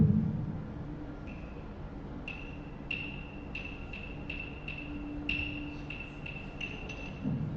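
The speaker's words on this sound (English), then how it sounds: "It's called the claves. And they're two pieces of wood that you play together." Two wooden claves clicked together in a sharp, bright rhythm at a school orchestra event, about a dozen quick hits in a 2-3 pattern, fairly faint over a low room hum.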